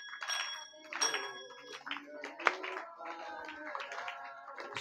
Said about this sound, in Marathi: टाळी वाजवा, मोठ्यानं म्हणा.